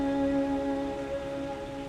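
Steady rain pours down in a continuous, even hiss with no voices, a dense wash of falling drops that stays level throughout.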